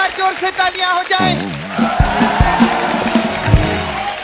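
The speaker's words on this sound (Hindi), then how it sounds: "और एक बार जोर से तालियां हो जाए" A comedy show audience with a comedian's gang claps loudly after a brief line of speech, a dense, rain-like patter of hands continuing to the end while voices carry on over it.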